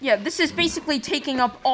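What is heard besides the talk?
No everyday noises stand out.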